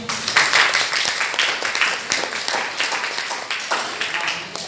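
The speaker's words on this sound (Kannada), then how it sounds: "ಅವನಿಗೆ ಎಲ್ಲರೂ ಕೂಡ ಚಪ್ಪಾಳೆಯನ್ನ ಹಾಕಿ" Tenth-grade students in a classroom clap together for a classmate, a dense and steady burst of many hands that fills the room with no one speaking.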